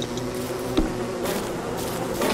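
A bee in the video game Don't Starve Together buzzes steadily and close for a couple of seconds, with a small thump partway through and no talking.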